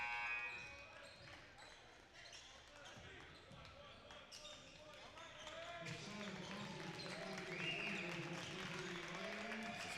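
Faint crowd applause in a gym for basketball players leaving the court during a men's college game, a steady distant patter that builds slightly, under court noise and voices.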